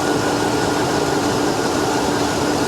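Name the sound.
GMC Envoy XUV 5.3 V8 engine idling rough with accessory noise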